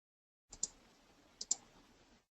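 A computer mouse right-click heard as two pairs of crisp, close clicks about a second apart in near silence.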